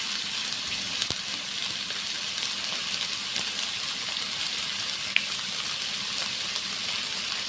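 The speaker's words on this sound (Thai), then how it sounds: "เราใส่น้ำลงไปเลยค่ะ" Water pours steadily into a pot of pork for a mild palo (five-spice braise) made for children, a continuous even gush with no voices.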